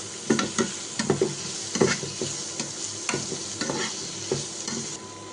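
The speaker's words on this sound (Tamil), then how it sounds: "இந்த வெங்காயம் வந்து இப்போ நம்ம கோல்டன் ப்ரௌன் ஆகிற வரைக்கும் கொஞ்சம் வேக விடலாம்" Sliced onions fry in oil in a pan for a Chettinad mutton gravy, giving a soft steady sizzle broken by repeated scraping and clattering strokes of a spoon stirring them.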